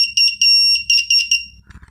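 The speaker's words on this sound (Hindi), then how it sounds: "ये इंडिकेटर ग्लो कर रहा है और ये बजर भी बज रहा है।" A homemade continuity tester's buzzer gives a piercing high electronic beep in several quick pulses, one held a little longer, then cuts off leaving faint low clicks.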